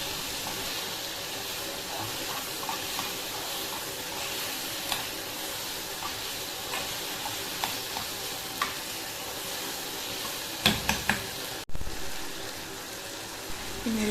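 Curry leaves are stirred into curry frying in a pan for a Kannur-style mushroom curry, giving a steady sizzle with light scraping taps, then a brief louder clatter near the end.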